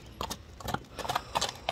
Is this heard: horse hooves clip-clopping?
yes